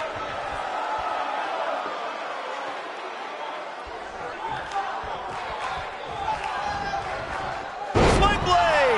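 A wrestler's sling blade slams an opponent down onto the mat at a UPW match, a sudden loud thud near the end cutting through a constantly roaring crowd and commentary.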